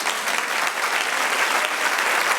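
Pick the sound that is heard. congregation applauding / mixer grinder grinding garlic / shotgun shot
congregation applauding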